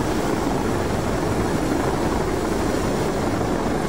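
Helicopter flying in the FlightGear flight simulator, a dense, steady rotor and engine roar that holds at constant loudness throughout, with no voices.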